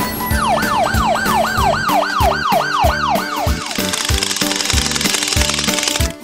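A white ambulance siren wails in a rapid rising-and-falling sweep over a bouncy children's music beat, then drops away after a few seconds while the music carries on.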